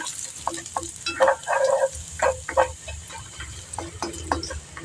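Garlic sautéing in hot oil for a pork bone stew, a steady light sizzle under repeated scraping strokes of a spatula against the pan, with no talking.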